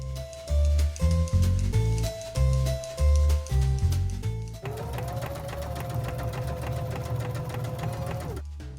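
Sewing machine stitching two cosplay trouser legs together at the crotch, running in short start-stop bursts and then one long steady run, close and loud with no talk.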